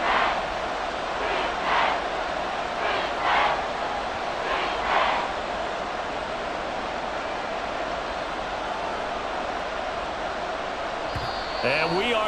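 A stadium crowd in the Madden NFL 24 football video game roars steadily throughout, a dense wash of cheering that swells in a few brief surges near the start and holds a constant distant rumble.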